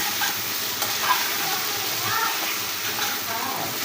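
Taro stolons with ginger and garlic paste are stirred in a pan, giving soft scraping and a low sizzle with scattered clinks of the spoon. The sound is fairly quiet and comes from close by.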